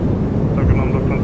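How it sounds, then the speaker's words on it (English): Thrust reversers on a PMDG 737-800 roar during landing in Microsoft Flight Simulator, a steady low rumble with a voice talking over it. "reversers are out."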